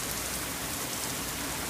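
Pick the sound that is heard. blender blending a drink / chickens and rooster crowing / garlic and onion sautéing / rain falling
rain falling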